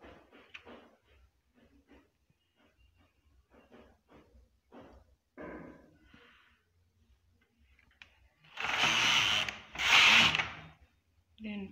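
A knitting machine worked for Fair Isle without a punch card, with scattered light clicks and ticks of needles being set, then two loud, close swishing carriage passes near the end.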